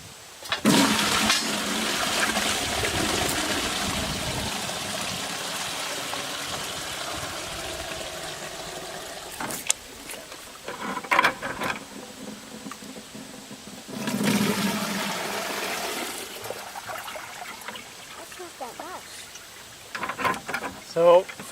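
Liquid stinging nettle fertilizer pours and splashes into a container in loud bursts, with a long gushing stretch at the start and another midway, broken by handling noises and quieter gaps.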